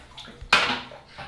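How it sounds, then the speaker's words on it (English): Water splashes into a bathtub in a short, sudden gush that quickly fades, fairly quiet and close, with no talk. "We've just been adding more and more water, and now G's like up to his neck in the tub."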